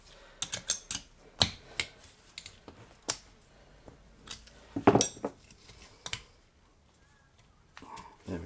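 Small metal valve collets and a valve shim being removed from a 2008 Ducati Hypermotard 1100S two-valve cylinder head, heard as scattered close metallic clicks and light clinks on a workbench, with a louder cluster of taps midway.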